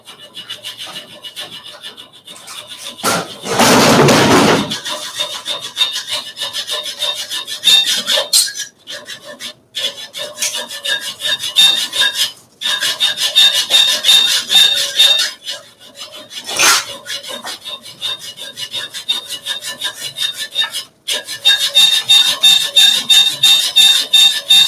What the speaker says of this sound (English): I will use this mini handsaw to cut the steel bar and to see the performance.